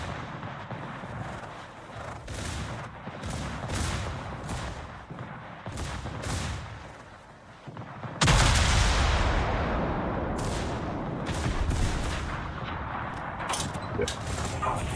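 A warship's gun battery fires in World of Warships, sending heavy booming salvos over a rumbling naval battle. A loud blast lands about halfway through, followed by sustained roaring.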